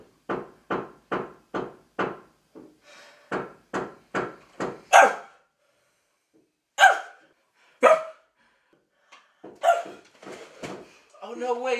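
A dog barks in a quick run of sharp, evenly spaced barks, then pauses before a few louder single barks, with a person speaking near the end.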